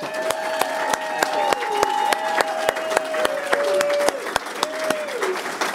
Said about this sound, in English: Please help me in giving them a round of applause.